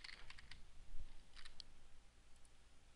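A computer keyboard being typed on nearby as a URL goes in, with short quick bursts of clicky keystrokes over a low steady hum, then quiet.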